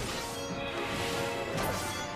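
A Dragoon's Spine Shatter Dive attack lands in Final Fantasy XIV, a single dense crashing impact with a bright smashing burst that fills the whole short moment, loud and with no talk.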